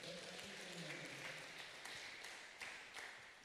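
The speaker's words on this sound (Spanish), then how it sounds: "Le damos una ofrenda de palmas a nuestro Dios." A church congregation applauding during a Sunday service, a soft, steady wash of clapping heard from a distance and fairly faint, with low murmuring underneath.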